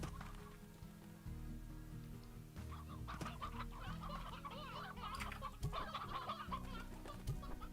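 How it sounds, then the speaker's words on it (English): Chickens cluck repeatedly in the video game Slime Rancher, a busy layered flock of short calls at moderate volume over steady game background music. "We don't have to feed the chickens."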